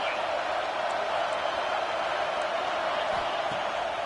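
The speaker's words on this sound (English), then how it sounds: "This crowd bringing the energy and noise early." Stadium crowd in a Texas A&M college football video game: a broad, steady roar of hissing crowd noise, fairly faint and continuous, with a voice talking over it.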